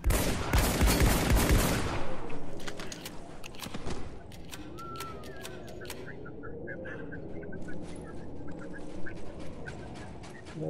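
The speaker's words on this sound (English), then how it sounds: "Someone is manning the machine gun." Heavy machine gun fire in a Spec Ops: The Line multiplayer team deathmatch: a loud, dense burst of rapid shots for about two seconds, then scattered, fainter single shots and distant gunfire trailing off.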